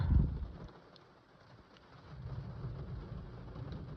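Thunder from a severe thunderstorm rumbles low and heavy at the start, fades out, then swells again into a distant rolling roar over steady wind noise.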